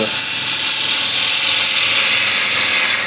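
A bowl gouge makes a peeling cut while hollowing a cross-grain wood bowl on a lathe. It gives a steady, loud, continuous hiss that holds without a break for the whole span, close by, with no voices.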